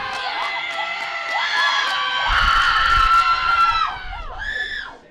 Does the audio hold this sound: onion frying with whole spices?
no